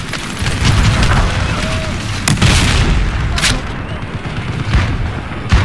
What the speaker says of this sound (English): Tanks shooting.